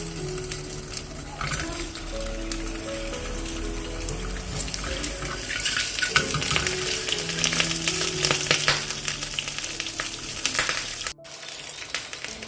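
Boiled eggs frying in oil in a home kitchen, a steady loud crackling sizzle that builds and holds, heard close up and alone, cutting off briefly near the end.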